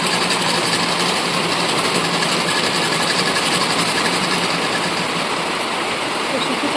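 Sewing machine stitching a strip onto a bag made from a sack, fast continuous rattling mechanical whir, close and loud, steady throughout.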